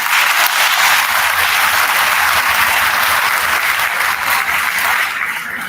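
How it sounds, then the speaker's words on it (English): Sustained audience applause fills the hall at a school symphonette concert, a dense wash of many hands clapping steadily for several seconds and tapering slightly at the end. "Can we have a big round of applause for those folks"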